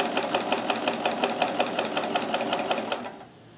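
A Kenmore super high shank sewing machine fitted with a free motion hopping foot runs in fast, rhythmic clicking bursts, about five per second, close and loud, then stops abruptly near the end.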